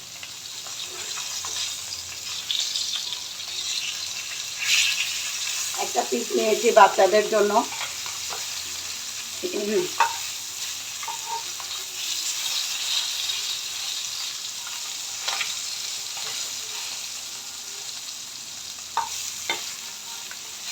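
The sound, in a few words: rohu fish frying lightly in a pan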